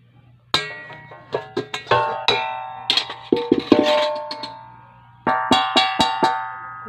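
Metal basin in a kitchen struck repeatedly, each hit giving a bright ringing clang that decays slowly, with irregular single strikes and a closing run of five quick hits.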